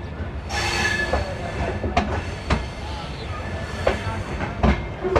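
A passenger express train on the Anand Vihar–Danapur route runs through Sahibabad station without stopping, its steady loud rumble broken by sharp clacks of wheels over rail joints at irregular intervals, with no voices.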